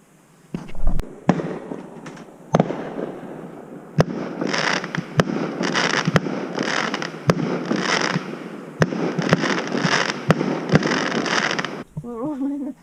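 Fireworks burst outside in a rapid series of sharp bangs and crackling pops, muffled as if heard from inside a widebeam boat on the Thames, ending with a short voice.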